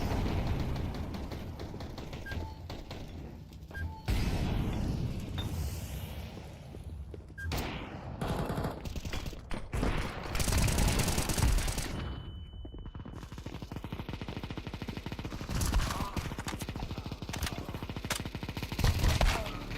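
Gunfire in the video game Counter-Strike 2 comes in bursts of rapid shots and heavy thuds of varying loudness, with busy game effects between the volleys.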